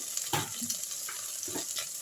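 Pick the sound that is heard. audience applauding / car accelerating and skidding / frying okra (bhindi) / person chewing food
frying okra (bhindi)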